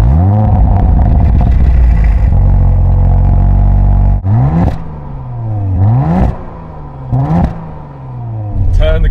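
A 2020 Audi RS4 drives through snow, its engine loud and close, holding a steady drone before it revs hard several times in quick rising bursts.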